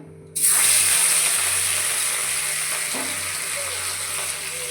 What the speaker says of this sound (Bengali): এখন মাছ ভাজবো তোমার গায়ে ছিটকে লাগবে সরে যাও